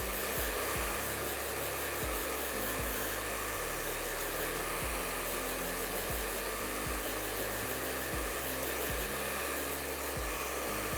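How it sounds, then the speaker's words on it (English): A hair dryer blows continuously while layered hair is blow-dried sideways, a steady close whooshing roar with a low motor hum and slight rhythmic fluttering as the airflow shifts, with no talking. "you're sort of just blow drying like almost sideways"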